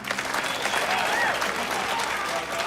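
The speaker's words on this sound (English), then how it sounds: "A big round of applause for Whisper Hug." A crowd claps loudly and steadily at a charity auction event, with a few voices and cheers mixed into the dense, continuous applause.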